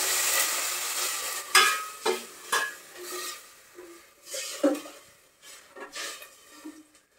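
Spices sizzle and crackle in a hot pan as a tadka tempering for stinging nettle curry, with repeated stirring and scraping of a utensil against metal, close and moderately loud.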